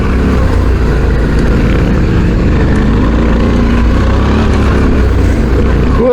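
A CFmoto 450MT motorcycle rides off-road, its engine a loud, close, continuous drone mixed with heavy wind rumble throughout.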